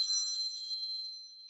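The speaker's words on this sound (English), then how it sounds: "Sorry, my phone's ringing." Mobile phone ringing during a local council children's services committee meeting, a thin, high electronic ring that sustains and slowly fades, faint and alone without talk.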